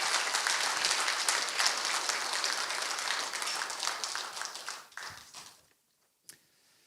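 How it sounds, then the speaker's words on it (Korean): Dense applause from an audience at an academic festival's chairman inauguration ceremony, sustained loud and steady for about five seconds before thinning out and stopping, with one brief final clap. "감사의 박수 부탁드리겠습니다"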